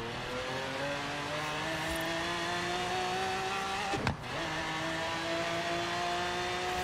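A sports car engine in Forza Horizon 3 drives close and loud, its note holding steady and edging upward under hard acceleration, with a short thump partway through.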